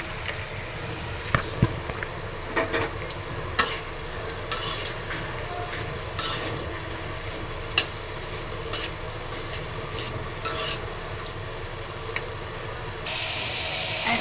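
Papaya pieces go into a pan of lightly browned onions frying over a low gas flame, a steady close sizzle with scattered stirring scrapes and clinks throughout, no voices.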